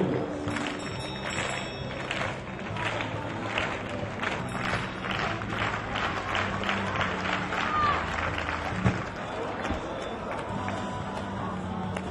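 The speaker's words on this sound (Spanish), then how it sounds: "Palmas ahora para Iñigo Uribarri en la longitud" Spectators clap in a steady rhythmic beat for long jumper Iñigo Uribarri at the José Antonio Peña athletics meeting, a continuous dense patter of many hands filling the stadium air throughout.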